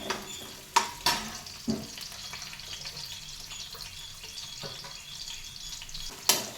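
Onions sizzle in a pan for veg fried rice, with steady frying hiss and occasional sharp clanks of a spoon stirring against the metal, close and moderately loud.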